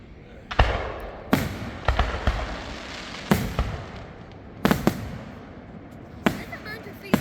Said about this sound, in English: Figure I'll give y'all a fireworks show tonight for y'all to see.